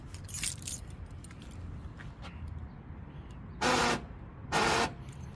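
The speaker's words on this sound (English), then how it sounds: "Let's get the keys out here." Car keys jangling and rattling close by, a soft clinking at the start followed by two louder bursts of metallic shaking near the end, with no one talking.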